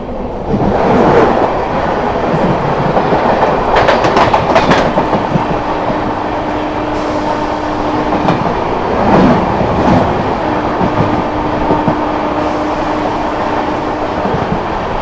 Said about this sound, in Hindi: झारखंड संपर्क क्रांति एक्सप्रेस।